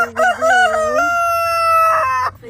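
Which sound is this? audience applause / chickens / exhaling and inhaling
chickens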